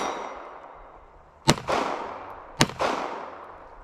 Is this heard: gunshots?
yes